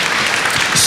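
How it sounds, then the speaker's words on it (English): Audience at a crowded tech jobs meetup applauds the panelists, a loud, dense, steady burst of clapping from many hands filling the room, with no talking over it. "We'll give them a round of applause."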